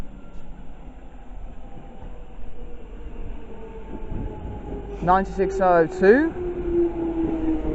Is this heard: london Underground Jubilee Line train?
yes